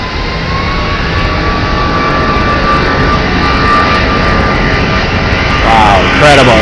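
Jet airliners at Phoenix Sky Harbor airport roar in a loud, continuous engine drone with a rising whine that swells near the end, while people talk nearby.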